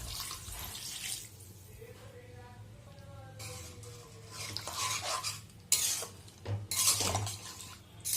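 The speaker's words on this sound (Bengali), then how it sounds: "এবার জল দেব।" Water is poured into a pan of prawn and vegetable curry on the stove, with soft splashing and stirring that swell in a few louder bursts over low kitchen background noise.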